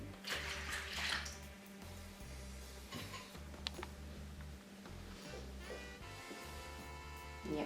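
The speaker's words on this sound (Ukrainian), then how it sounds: "Сюди додаємо 200 мл води" 200 ml of water pours and splashes steadily into a bowl, with a steady musical hum running underneath the whole time.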